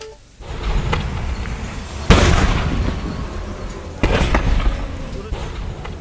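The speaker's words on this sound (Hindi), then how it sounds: "ये धमाके हाईवे पर हुए" Burning vehicles explode on a highway near Ajmer, heard as two sharp, loud booms a couple of seconds apart over a continuous roaring background.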